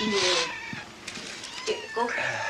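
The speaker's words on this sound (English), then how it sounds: "Oh, look, a little kitten." A small kitten gives several high, thin meows inside a house, with a person speaking briefly between the cries.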